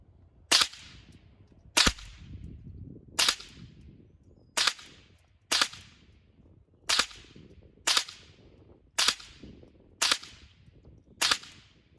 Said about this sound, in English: you hear the crack of the bullet more than you actually hear the gun firing